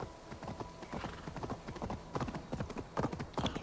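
Horse hooves gallop in Assassin's Creed Valhalla, a quick, steady clip-clop rhythm of hoofbeats on the ground, fairly close and continuous with game ambience beneath.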